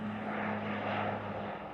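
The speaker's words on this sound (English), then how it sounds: "there on the tarmac was the plane which had flown in for the onward journey to London" A plane on an airport tarmac, waiting for an onward flight to London, gives a steady, fairly loud engine and propeller drone with a low hum that stays constant throughout, no voices.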